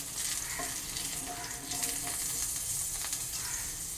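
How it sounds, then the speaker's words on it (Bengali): Eggplant pieces frying in hot oil produce a continuous hissing sizzle with light crackles, close and even throughout. "বেগুনের টুকরোগুলো আমার খুব সুন্দর ভাজা হয়ে গেছে লাল করে ভাজা হয়ে গেছে"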